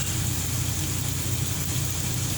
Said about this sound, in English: sounds like the truck shaking. It's because the engine's going